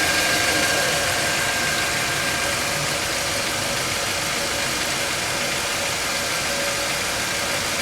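A 2018 Nissan Versa's engine runs steadily after an oil change, a constant close broadband hum with no pauses or talk.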